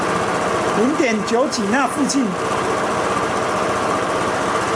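A VJR scooter engine fitted with a 61 cylinder kit idles with a steady, even running hum, while someone speaks over it partway through.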